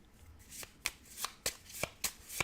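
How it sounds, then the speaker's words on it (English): Decks of playing cards are shuffled in a row of about six quick riffles, each a sharp crisp burst close by, quiet overall and without talking. "I'm just going to shuffle up these decks the first time I use them"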